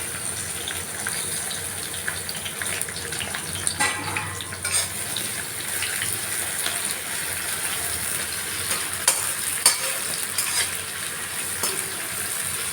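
Onions and green chilies fry in hot oil, a steady close sizzling hiss with occasional stirring scrapes, no speech.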